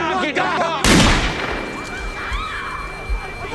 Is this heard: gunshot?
yes